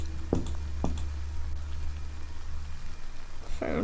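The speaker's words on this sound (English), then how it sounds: "It's raining! Oh, I like the rain." Steady rain falling in the video game Bad Dream Fever, a constant wash of patter with a few louder splatter bursts near the start and end, no talk.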